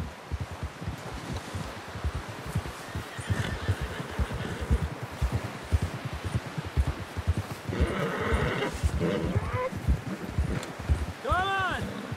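A horse in Red Dead Redemption 2 clip-clops along with rustling and wind, then gives a loud, clear neigh near the end, while voices call out over the hoofbeats.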